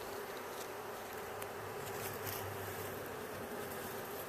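Bees trapped inside a sugar feeder buzz continuously, a close, dense, even drone with no pauses.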